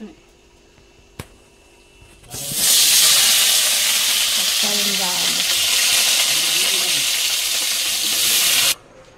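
Cauliflower curry hits a hot pan with a sudden loud, steady sizzle that continues for several seconds, with stirring and faint talk beneath, after a quiet moment with a single click.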